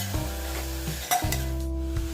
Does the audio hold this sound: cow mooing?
no